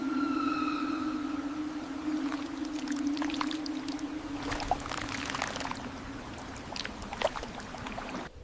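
An elephant in pain lets out a long, heavy groan, a low, steady moan held for several seconds and heard fairly faintly, with scattered soft rustles and splashy clicks around it.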